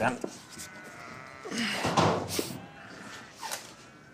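Sheep bleat intermittently amid a busy shearing shed on a farm of 2,500 sheep, with people talking over the animals and some shuffling and knocking noises.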